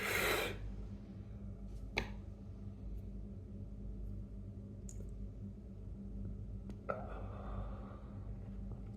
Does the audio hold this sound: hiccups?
yes